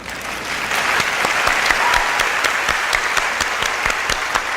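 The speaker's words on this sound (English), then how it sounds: "I'm clapping for my wife." Steady applause from a crowd, many hands clapping continuously at a fairly loud, even level throughout.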